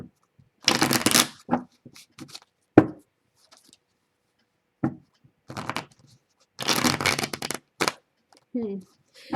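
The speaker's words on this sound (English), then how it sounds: "It's interesting when the cards don't want to shuffle sometimes." Tarot cards being shuffled by hand in several separate bursts of riffling and tapping, close and fairly loud, with short pauses between them.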